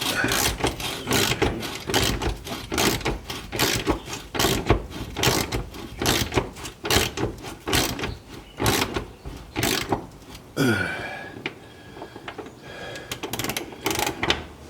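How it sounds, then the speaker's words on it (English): A ratchet wrench tightens a rusty threaded fastener on a 1964 Ford Falcon during restoration, giving rapid close-up clicking bursts in a steady rhythm that changes to a slower mechanical grind near the end. "tightening it back up because it's starting to hang up on the rust on the threads here"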